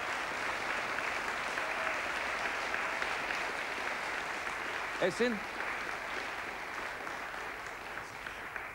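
A studio audience at a TV show applauds steadily throughout as a dense, even patter of many hands, and someone speaks briefly over it.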